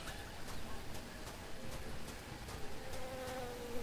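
Faint buzzing of bees in Tales of Monkey Island, a soft steady drone with light regular ticking pulses over a quiet ambient background.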